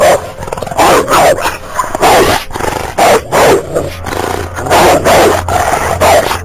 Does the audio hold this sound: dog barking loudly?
yes